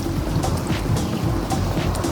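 Loud, steady rush of river water flowing under a bridge, a continuous churning roar close to the microphone with gusty wind noise mixed in and no talking.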